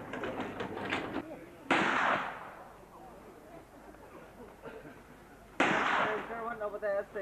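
Two sharp gunshots ring out from a firing range a few seconds apart, each a loud crack with a short decaying tail, set against a guide's nearby speech.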